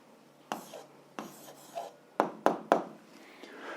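A pen or pencil writes out the answer to an algebra exercise on paper, with a handful of soft, close scratchy strokes and taps spread unevenly, quiet and alone.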